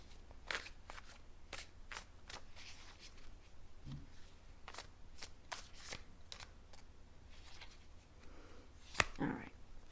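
Tarot cards are shuffled and drawn in a quiet room, a run of crisp, rapid card flicks and snaps with short pauses between them and one louder slap near the end.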